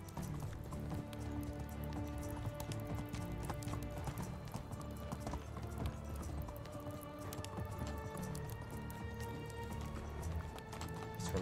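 In the video game Medieval Dynasty, the horse Roach gallops with continuous rhythmic hoofbeats, steady and fairly faint, with game ambience underneath and no talk.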